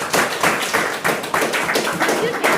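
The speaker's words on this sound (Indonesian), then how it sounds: "kita kasih aplaus dulu deh" A class audience applauds after a panel presentation in a university advocacy course: dense, steady clapping from many hands that fills the room for a few seconds while a voice talks over it.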